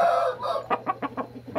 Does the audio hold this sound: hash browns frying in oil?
no